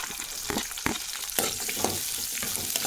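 Chopped onions fry in an earthen pot until brown, a constant quiet sizzle with a few sharp scraping stirs of a spoon, close and with no talk.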